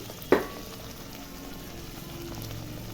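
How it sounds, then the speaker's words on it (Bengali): A spice mixture sautéing in a pan gives a soft, steady sizzle after one sharp clatter near the start, continuing quietly and evenly with no voices. "মশলাটা এখন কষিয়ে নিব।"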